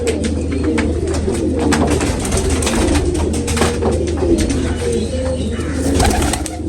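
Racing pigeons coo in low, rolling murmurs, several birds overlapping continuously at close range, with faint chirps and rustles in the background.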